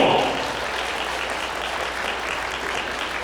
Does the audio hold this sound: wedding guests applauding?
yes